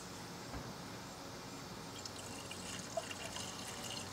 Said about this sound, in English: let me fill this up with some coolant.